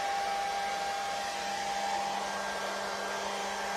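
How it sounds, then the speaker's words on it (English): A good old-fashioned hair dryer runs steadily on its low setting, a constant near whir with a faint tonal hum and no pauses, heard alone without any voices. "That right there is a good old-fashioned hair dryer. And it's on the low setting, so it's keeping it warm in there."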